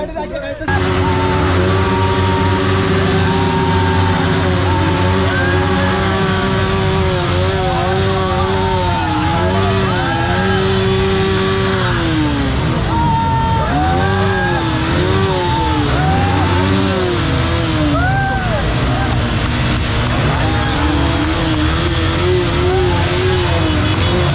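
Motorbike engines rev and drone continuously at a roadside rally gathering, loud and sustained, with rising and falling pitch as throttles open. Voices and crowd chatter run underneath throughout.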